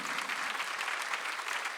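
A church congregation at a Sunday worship service applauds steadily throughout, dense continuous clapping heard at a moderate distance with no voices over it.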